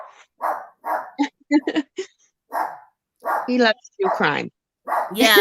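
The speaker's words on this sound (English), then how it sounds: "that's my dog. See, Always barks while I'm on." A pet dog at home barks repeatedly in short bursts and yips, close to the microphone, alternating and overlapping with people talking during an online conversation.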